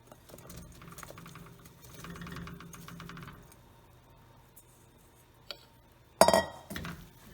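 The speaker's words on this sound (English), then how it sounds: "I'm going to add my vegetable." Broccoli and cauliflower florets drop into a pan of garlic, giving a few soft rustles and then a sharp clatter of utensil against the pan near the end, with no talk.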